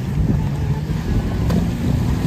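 Strong wind buffets the microphone on the open sea near Coral Island, Pattaya, a steady low roar with boat rumble underneath, loud and continuous with no talk.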